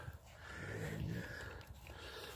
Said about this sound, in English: Got another raccoon catch down here. Yeah, he growling.